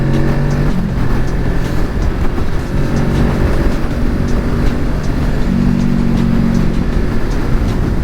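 A Kawasaki Ninja 650 motorcycle rides through traffic, a loud, continuous engine drone with steady road and wind rush and a faint shifting engine hum, close to the microphone throughout with no talking.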